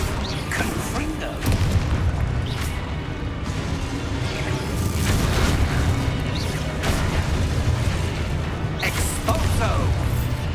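Several Confringo blasting spells erupt in Hogwarts Legacy as booming, crackling bursts over a dense clatter of combat noise, with a voice talking through parts of it.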